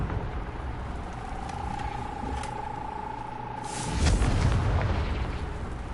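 A Confringo blasting spell goes off in Hogwarts Legacy. A whistling tone holds for a few seconds, then a deep, rumbling boom bursts out near the end.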